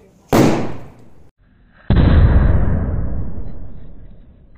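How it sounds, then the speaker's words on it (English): Golden Lakshmi bomb firecracker set off in snow during Diwali: an opening loud crack with a short decay, then after a brief pause a second heavy blast whose roar and hiss linger and fade slowly, with no talking. "Let's try the Golden Lakshmi bomb. Let's burn it."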